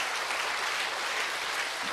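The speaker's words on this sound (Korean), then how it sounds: "박수로 주님께 영광 돌립니다" A church congregation claps together in praise, a dense, even, moderately quiet roar of many hands with no pauses and no voices over it.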